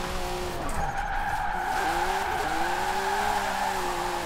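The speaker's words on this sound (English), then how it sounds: "trying to do these really high speed drifting" Tires screech in a sustained skid as a car drifts at very high speed in Forza Horizon 4, with steady engine tone underneath, loud and continuous throughout.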